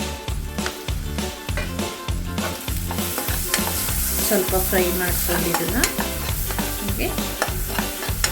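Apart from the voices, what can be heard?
spinach (palak) frying and being stirred in oil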